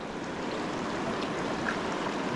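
River water rushes steadily in Azad Kashmir, a dense, constant broadband roar of flowing current heard close and alone with no talk.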